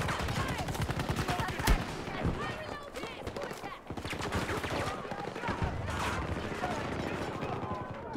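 Rapid gunfire bursts and shots from Battlefield 2042 multiplayer combat, dense and continuous with a sharp crack near the start, while voices talk over the battle.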